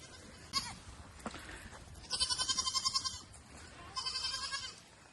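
Goats bleat in a few quavering, wavering cries, fairly close, with short pauses between calls and no talking.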